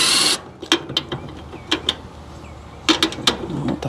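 A ratchet wrench loosening bolts on an HVAC outdoor condenser unit, heard as a loud hiss at the start followed by sharp, close clicking ratchet strokes in short irregular groups.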